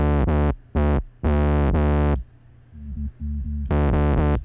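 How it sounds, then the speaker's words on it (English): Distorted bass synth notes hit in short and longer bursts, gritty and buzzy with bright harmonics from a warp distortion setting, alternating with quieter, cleaner low tones. "As I add a distortion to a bass"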